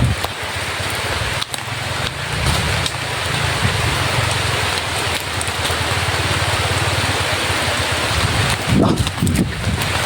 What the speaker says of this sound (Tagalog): Sobrang ulan po na.